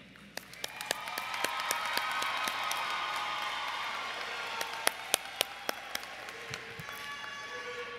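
An audience at a 2015 Alonzo A. Crim High School graduation ceremony applauds in a sustained wave of clapping that swells, holds, then thins to scattered claps, with a few voices in the crowd.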